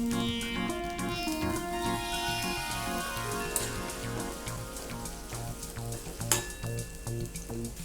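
Onions sizzle and crackle steadily in hot oil in a pan for a curry, a dense continuous frying hiss with scattered pops, close and fairly quiet.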